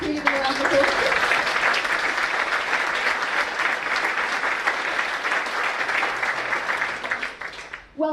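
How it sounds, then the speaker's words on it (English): A loud, sustained round of applause from a school audience for a physics team at a third-year achievements event. Dense, even clapping runs for several seconds with a few voices early on, then thins out and fades near the end. "Can you give them a round of applause?"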